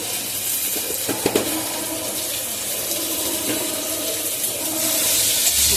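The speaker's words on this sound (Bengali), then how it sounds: "এবার আমি জল দিয়ে দেবো" Water pours steadily into a pan of simmering rupchanda fish curry with kachur gati, a continuous rushing splash that grows slightly fuller toward the end.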